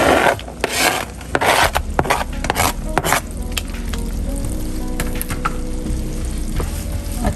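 Julienned ginger, green chilies and fresh coriander frying and being stirred into maash dal, with loud scraping spoon strokes and clatter at first, settling into a steady close sizzle.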